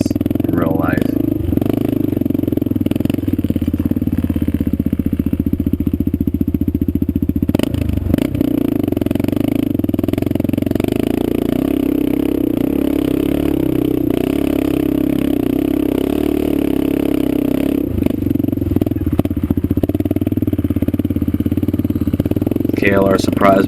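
A Kawasaki KLR650 motorcycle in first gear labours up a steep rocky hill. Its engine holds a loud, steady chug with rattles and scrapes from the rough ground, close by the whole time, while a rider talks over it.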